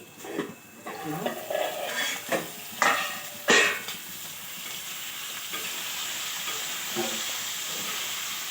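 A few scraping, clinking strokes of a spoon stirring fish curry in a pan, then a steady soft sizzle of cooking continues alone.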